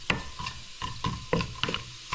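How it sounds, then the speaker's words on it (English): Sprigs of thyme pop and sizzle in hot oil while a curry chicken base is stirred, with a steady fry hiss under a series of sharp crackles and pops recurring every half second or so, close and moderately loud. "That thyme is popping and infusing the oil,"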